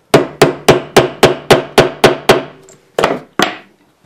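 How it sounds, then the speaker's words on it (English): A rivet tool is hammered into place on a protective wood block: about nine sharp, evenly spaced metal-on-wood strikes, then two slower final blows, loud and close with no talking. "and just hammer it into place."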